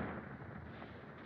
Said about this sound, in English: It was a bomb.